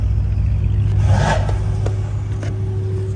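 A tuned Mercedes C63s with 670 hp drones along the highway, its engine a steady low rumble with a brief louder rev swelling in the middle, plus faint clicks and road noise and no talking.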